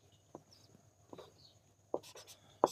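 Pen on paper while a class 10 math solution is worked out, soft scratchy strokes in short separate bursts, close and fairly quiet.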